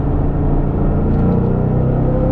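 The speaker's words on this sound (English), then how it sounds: "Let's do a third gear pull." A Ford Mustang GT engine roars steadily under load in third gear, a loud continuous rumble accelerating with no speech over it.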